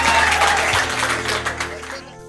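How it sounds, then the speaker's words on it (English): Clapping from a group of people at a Delta State health sector event, a dense burst of hand claps filling the moment, close and fairly loud, fading toward the end with some background voices mixed in. "Clap yourself, clap yourself."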